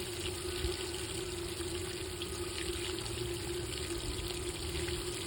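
Water runs steadily from a tap or hose while backyard and porch plants are watered, a faint, continuous splashing flow with a low hum underneath and no speech.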